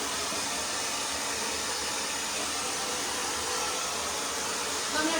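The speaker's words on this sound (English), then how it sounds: "I'm going to dry it a little bit before I really start round brushing anything." A hair dryer blows steadily at close range on short hair before round brushing, a constant loud whooshing hiss with no pauses.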